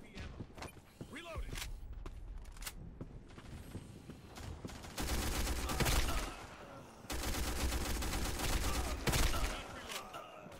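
An automated gun turret fires at enemies in the shooter game Black Squad. Scattered sharp shots give way to two sustained bursts of rapid fire, each lasting a couple of seconds, at moderate loudness.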